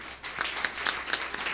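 Lively audience applause for a speaker at an academic tribute event on Enerio Rodríguez's life and work, with many overlapping hand claps, a few sharper ones popping out of a brisk, continuous patter.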